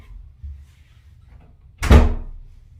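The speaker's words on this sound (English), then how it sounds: "May I close the door?" A door swings shut with a single solid thunk, close and loud after a quiet stretch, its low boom fading over about half a second.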